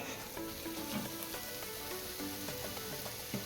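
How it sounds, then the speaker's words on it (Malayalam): Ginger garlic paste fries in a hot pan for Kerala-style karimeen pollichathu, a dense continuous sizzle with faint crackles and occasional scraping from stirring. "ഇഞ്ചിയും വെളുത്തുള്ളി നന്നായിട്ട് മൂപ്പിച്ചെടുക്കണേ"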